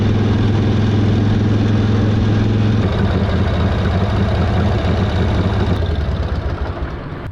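A 1942 WWII Harley-Davidson motorcycle from a junkyard drones loudly and steadily while riding on a highway, a constant rough engine roar with wind noise that fades slightly at the end.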